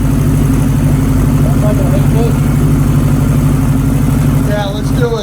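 Honda CB1100F motorcycle engine running steadily on a dyno, a loud continuous mid-pitched drone that holds for several seconds before easing slightly at the end.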